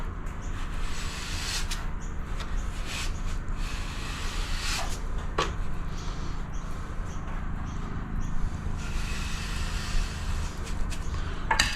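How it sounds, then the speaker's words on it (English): A generator drones steadily on a building site with no mains power, a constant low rumble filling the background alongside faint scattered knocks and rustles, no talk. "so the noise you hear is the generator"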